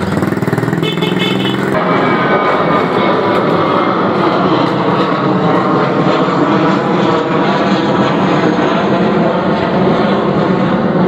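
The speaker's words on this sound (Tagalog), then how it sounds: "Aeroplano." A loud, steady aircraft engine roar fills the whole stretch, a continuous droning rumble with no pause, close and heavy.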